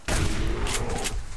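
Shotgun firing in the survival video game Subsistence, a loud, dense blast with a rumbling tail that fills the short moment, heard alone without talk.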